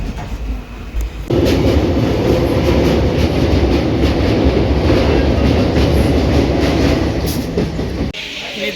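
The Teesta Torsa Express passenger train runs on the Kolkata to Guwahati line with a loud, steady rumble and rhythmic wheel clatter, heard from on board after a quieter start.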